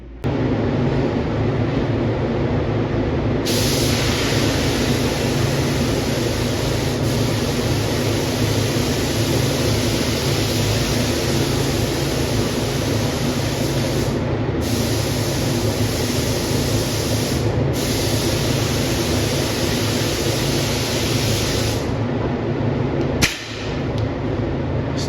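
A spray gun lays down a coat of white paint in a steady, loud hiss that runs almost without a break, pausing only for a few short gaps before carrying on.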